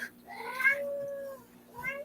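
A house cat meows close by in a room: a rising, drawn-out cry followed after a short pause by a second, shorter meow.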